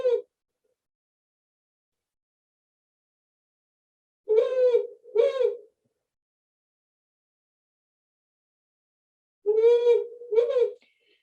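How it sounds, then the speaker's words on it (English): Powerful owl calling at night in a backyard, two short paired hoots repeated in two bursts separated by long silences, clear and fairly close with nothing else audible. "Every now and again, I hear a powerful owl."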